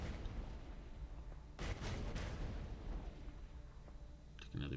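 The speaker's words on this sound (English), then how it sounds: "I might as well fire a medium range missile at this one" A medium range missile launches in the space strategy game Galactic Civilizations 4, a loud booming blast with a rumbling tail and a second burst just after, heard alone over a steady game backdrop.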